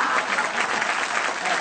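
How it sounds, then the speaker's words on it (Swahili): A live audience claps steadily in a dense, even burst of applause, close and loud, lasting only a moment with no voices over it. "Pigeni makofi jamani."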